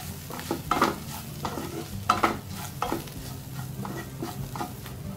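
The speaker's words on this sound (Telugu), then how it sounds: "వేసుకొని డ్రై మసాలాస్ ని ఒకసారి మిక్స్ చేసుకుందాము" Dry masala spices stirred into mutton in a pan: repeated scraping strokes of a spoon against the pan over a steady low sizzle, close and fairly loud, with no voices.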